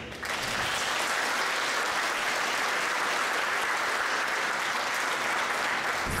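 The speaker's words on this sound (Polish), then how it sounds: "brawa dla nich" Sustained applause from a studio audience thanking the contestants at the close of a live Polish game show, a dense, steady wash of clapping that holds at an even level for the whole stretch.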